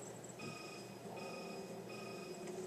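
A phone rings in Resident Evil 6, with steady electronic ring tones pulsing in short repeated bursts over a low game background hum.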